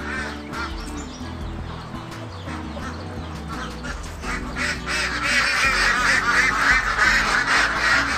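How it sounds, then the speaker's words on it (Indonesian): Ducks at an urban black soldier fly farm in Jakarta quack and honk in a steady, overlapping chorus close by, growing louder toward the end amid farm background noise. "Bebek ya teman-teman."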